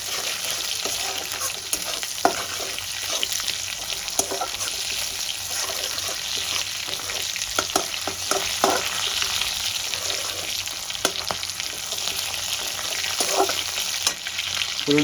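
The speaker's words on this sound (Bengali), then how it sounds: "ফোড়নটা আমার ভাজা হয়ে গেছে," Whole tempering spices (phoron) frying in hot oil in a pan for a rui fish curry, a steady close sizzle with occasional light clicks and scrapes of stirring.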